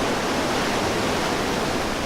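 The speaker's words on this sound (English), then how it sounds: "Baker said these are the most important falls on the whole of the River Nile." Broad, unbroken roar of a big waterfall on the River Nile, heavy falling water close and loud throughout, with no voices.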